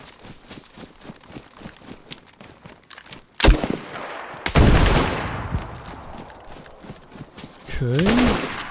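Gunfire in the survival game DayZ: a rapid burst of many close, sharp shots, then a loud crack and a big blast with a long rumbling tail, followed by a swelling whine near the end.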